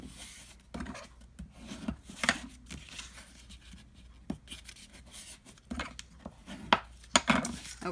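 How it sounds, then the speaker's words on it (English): Sheets of paper are creased and folded into an origami photo cube, with soft scattered rustles, rubs and sharp pressing taps, fairly quiet and close with no speech. "fold these corners into that cross in the center that you just created"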